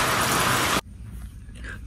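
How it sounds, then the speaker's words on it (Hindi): Heavy rain hisses loudly and densely at a lakeside campsite for under a second, then cuts off abruptly to a much quieter background of soft patter and distant noise. "बारिश आप देखिए कितना ज़्यादा तेज़ हो रहा है"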